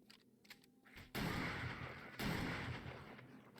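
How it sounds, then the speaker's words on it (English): Shotgun blasts against zombies during a horde night in 7 Days to Die, two heavy booming shots a second apart, each with a long rumbling tail, after some quiet clicking. "Accuracy is out the window. We are shotgunning."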